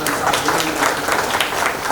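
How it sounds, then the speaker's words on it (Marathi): Audience applause at a Marathi lecture event, a steady dense wash of clapping filling the full moment at moderate loudness, with no voices rising above it. "त्याच्यासाठी जोरदार टाळ्या"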